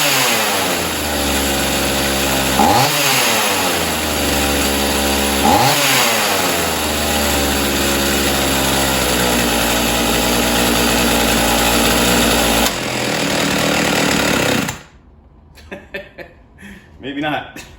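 A rebuilt Husqvarna 51 chainsaw with a freshly redone carburetor runs loud and close, idling with a buzzy two-stroke drone, blipping up in two quick revs and then settling back before it cuts off, leaving faint handling noises.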